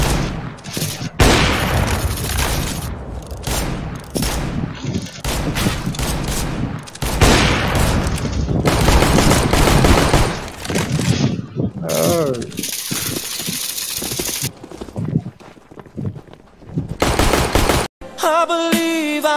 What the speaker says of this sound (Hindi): शॉट आ गए दोनों शॉट आ गए